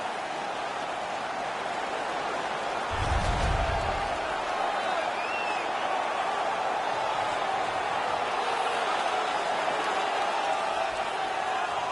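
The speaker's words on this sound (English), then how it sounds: "The home crowd is ecstatic. They're making all kinds of noise." A home crowd at an NHL playoff hockey game against the Toronto Maple Leafs roars in a broad, constant wash of noise, swelling briefly with a low burst, with no single voice standing out.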